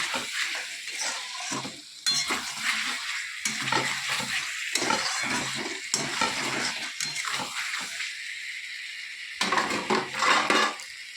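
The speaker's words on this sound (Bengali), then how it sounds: "এরপর আমি ভেজে রাখা চিংড়ি মাছটা এর মধ্যে দিয়ে দেবো। দিয়ে বেশ কিছুক্ষণ একটু কষিয়ে নেব।" Fried prawns stir-fried with young jackfruit in a pan, giving a steady sizzle broken by frequent spatula scrapes and clinks against the metal, with a brief quieter gap before a final burst of vigorous stirring.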